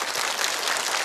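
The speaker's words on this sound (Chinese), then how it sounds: "我们一起给你们鼓掌" Audience applause in a television studio before a couple's dance, a dense steady burst of clapping throughout.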